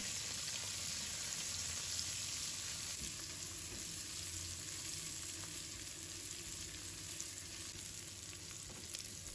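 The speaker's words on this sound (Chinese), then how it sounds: "将锅加热，加入少许食用油，把蒜片、蒜白和干辣椒放入锅中，" Garlic slices, scallion whites and dried chilies stir-frying in a little hot oil in a wok, a soft, even sizzle with light crackle running steadily and fairly quiet, no voices.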